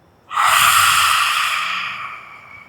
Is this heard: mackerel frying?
no